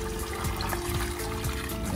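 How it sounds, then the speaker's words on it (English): Water poured into a Pentair pool pump during installation, a steady close trickling and splashing with no talk. "So I put water in the pump."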